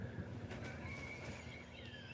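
A horse neighs nearby, a clear, moderately loud whinny with wavering pitch that runs through the whole short stretch, with no speech over it.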